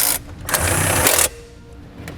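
A ratchet drives panel bolts back into a 2017 Jeep Wrangler, giving about a second of dense, close mechanical clicking that stops abruptly and leaves a quiet background.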